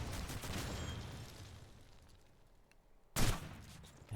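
Gunfire in the Call of Duty 2 video game, a burst of rattling shots fading into quiet, then a single sharp loud bang near the end, with no voices.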